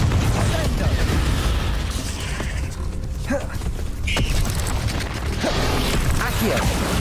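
A Confringo fire spell explodes in the video game Hogwarts Legacy, with deep rumbling booms and bursts over a constant heavy low-end roar, punctuated by short popping impacts.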